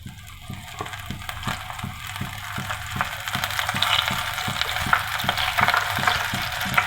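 Onion ring pakoras sizzle and crackle steadily as they fry in hot oil, a continuous close hiss with small pops and a faint rhythmic clicking underneath, no voices.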